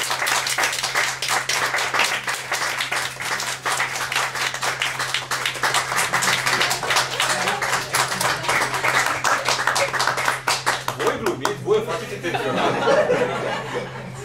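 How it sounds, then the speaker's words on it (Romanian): Applause with clapping and some chuckles from an audience at an improvised speech event in Brașov, dense and steady for most of the stretch before thinning out near the end, with a faint constant hum underneath. "Să aplaudăm cu Costi."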